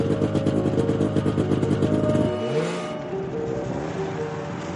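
A motorcycle engine revs hard and loud at a stunt-riding contest, with steady throbbing harmonics that drop sharply midway and settle into a lower, rougher idle-like drone.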